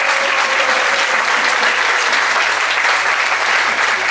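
Sustained, even applause from a rebetiko concert audience in İzmir, cheering the sound and lighting crew, a thick wash of many hands clapping at once that stays loud from start to finish over a low steady hum.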